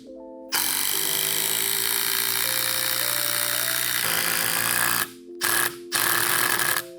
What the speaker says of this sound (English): Boy, this drill's weak.